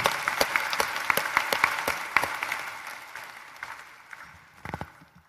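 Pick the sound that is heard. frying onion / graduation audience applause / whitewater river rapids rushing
graduation audience applause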